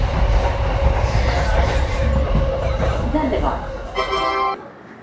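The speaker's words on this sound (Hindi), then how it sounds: "ट्रेन आ गई है हमारी" A train pulls into a station on the way to Haridwar, its steady rumble and clatter of rail cars filling the space, with a brief cluster of high tonal squeals near the end as it slows before the noise drops.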